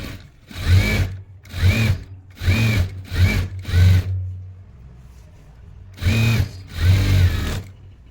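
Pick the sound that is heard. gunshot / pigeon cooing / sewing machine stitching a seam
sewing machine stitching a seam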